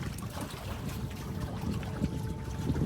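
A canoe fitted with a 12-foot Expandacraft outrigger kit sails proa-style on open water, heard as a steady rush of wind buffeting the microphone over faint lapping and trickling water.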